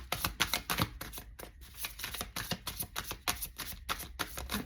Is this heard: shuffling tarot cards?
yes